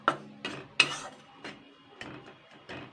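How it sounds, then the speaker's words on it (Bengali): A spoon scrapes and taps through spiced lentil filling for hing kachori in a pan, giving a quiet series of six or seven separate clinks and scrapes at an unhurried, irregular pace. "তো আমি এর সঙ্গে এবার মিশিয়ে নেব"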